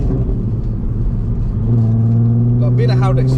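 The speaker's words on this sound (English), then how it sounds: "you can hear more of the exhaust with this" The VR6 engine and exhaust of a Volkswagen Passat R36 or Golf R32 drone steadily from inside the car, rising in pitch as it accelerates, under ongoing talk.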